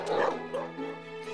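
Dogs at a dog shelter bark and yip together, a close, high-pitched chorus that runs continuously with whimpers mixed in and no pause.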